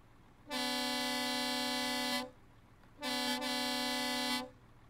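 A truck's horn in Euro Truck Simulator 2 (a MAN rig) sounds two loud, steady blasts of nearly two seconds each, separated by a brief pause, over a low engine idle.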